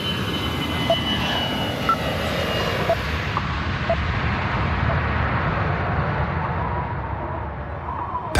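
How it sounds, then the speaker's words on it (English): An AirAsia passenger airplane on its takeoff roll, a loud continuous roar of jet engines building and holding, with faint tonal whines riding over the rumble. "clear to takeoff."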